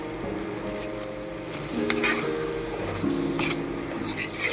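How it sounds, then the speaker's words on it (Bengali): Spiced masala with tomato paste fries in a pan for a Bengali Silvercup fish curry, a moderate sizzle under scraping stirring strokes, with some tonal kitchen hum in the background. "মশলাটা একটু ভালো করে কষে নিচ্ছি"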